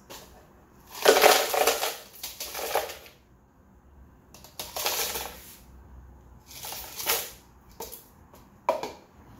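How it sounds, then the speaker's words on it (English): Ice poured into a blender for a peanut butter date smoothie, several bursts of clattering, crunching cubes dropping in close by, separated by brief quiet gaps. "And now I'm gonna add ice."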